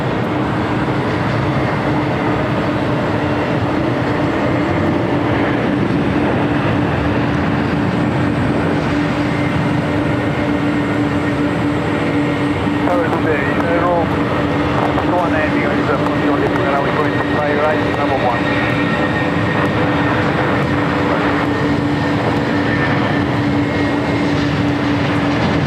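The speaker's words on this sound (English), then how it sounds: "United 777 coming in from Chicago O'Hare" A United Boeing 777 arriving from Chicago O'Hare comes in to land at LAX with a loud, steady jet roar and a faint whine, while people talk over it.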